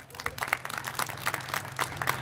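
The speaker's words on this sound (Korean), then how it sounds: "다시 한번 힘찬 박수 부탁드리겠습니다" A crowd at an outdoor workers' rally claps in a dense, uneven burst of applause, with scattered individual claps standing out and fairly close.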